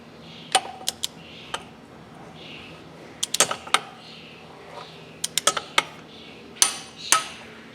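Sharp metallic clicks and clanks from a torque wrench tightening engine cylinder head bolts on a Chevrolet El Camino restoration, coming in small irregular clusters over a quiet workshop background, with no talking.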